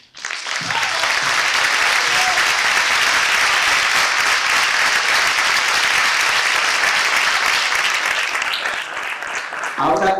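Dense, loud audience applause at an Andalusian music event, sustained clapping from a large crowd that swells in quickly and continues evenly for around nine seconds before tapering off.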